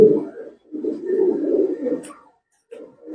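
Fancy pigeons at a pigeon farm in Kakdwip give low, throaty coos in two rolling bursts, fairly close and moderately loud, then a short pause and a softer coo at the end.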